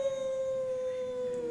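A voice imitates a lonely dog howling, one long sustained steady howl that dips slightly at the end, close and fairly loud, with no other talking.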